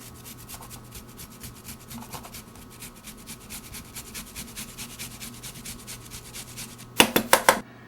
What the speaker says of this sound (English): I will take the rest of this ginger and grate it with a grater